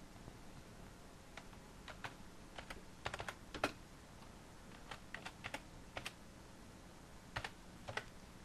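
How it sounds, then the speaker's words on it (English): Keys clatter on a computer keyboard in irregular bursts of typing with pauses between, moderately close and fairly quiet while a PC setup form is filled in. "Now you need to type in your name and your organization."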